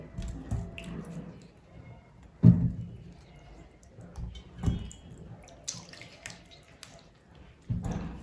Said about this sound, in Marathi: आपण हे बटाटे स्वच्छ धुवून घेऊयात